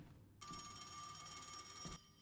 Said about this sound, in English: I had another phone call from that creepy guy